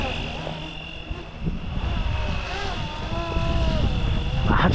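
A remote-control AirWolf helicopter from Fly Wing flies nearby with a steady whirring rotor drone and a thin motor whine that grows slightly louder toward the end.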